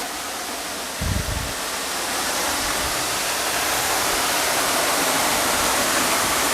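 The Saeng Chan (Moonlight) waterfall in Thailand, where water drops through a hole in the rock, roars steadily nearby, a loud, continuous wash of rushing water, with a brief low thump near the start.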